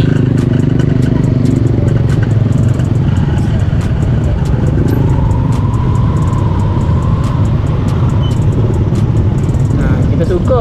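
Dense, slow-moving traffic with many motorcycles and cars crawling through a busy roadside area near a market on a Friday afternoon, a continuous loud rumble of engines close by, with a voice talking over it.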